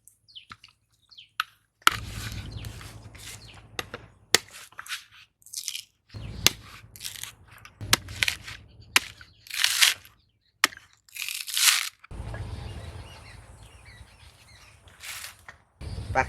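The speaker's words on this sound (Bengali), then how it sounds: "তাই আমি নারকেল কেটে নিচ্ছি।" A coconut is cut outdoors in a village kitchen with irregular sharp chops and crunchy scraping bursts separated by pauses, while birds chirp faintly in the background.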